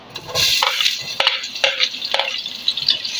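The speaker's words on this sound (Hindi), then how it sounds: "गर्म हो चुका है, अब मैं इसमें ये प्याज ऐड कर रही हूँ।" Onions dropped into three spoons of hot oil for lauki chicken salan, a loud close sizzle with several sharp stirring scrapes against the pan.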